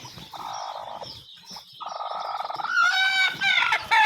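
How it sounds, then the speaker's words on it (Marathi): Shrill, overlapping peeping of young country-breed chicks on a poultry farm in continuous bursts, growing busier and louder toward the end, with no talking. "हे एक कोंबडीचे पिल्ले आहेत"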